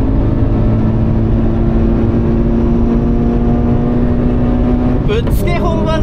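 Toyota 86 GRMN on the Magarigawa circuit, a steady loud engine drone with in-car rumble as the car brakes and accelerates, rising pitch near the end as the engine revs up; a voice talks over it.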